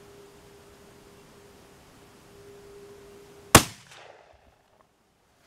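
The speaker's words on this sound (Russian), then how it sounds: "Выстрел хороший, выстрел сильнее." A shotgun firing a Gualandi Supermagnum shell loaded with 40 g of No. 0 shot over Sonar 42 powder: a faint hum, then one loud, sharp blast that decays quickly into quiet.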